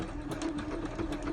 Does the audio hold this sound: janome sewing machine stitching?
yes